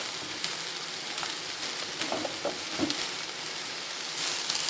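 Sliced ivy gourd (kovakka) frying in a pan with masala, a soft continuous sizzle with a few light stirring clicks and scrapes, fairly quiet and close, no voices.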